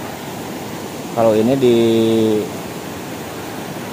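River water pours steadily over a village irrigation dam, a constant close rushing wash that runs throughout, with a voice speaking briefly over it.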